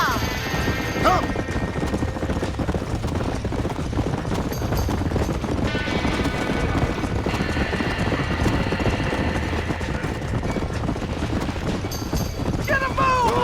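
Horses trapped in a burning barn in the Red Dead Redemption video game, with dense galloping hoofbeats, whinnies and crackling commotion running throughout, with voices shouting over it.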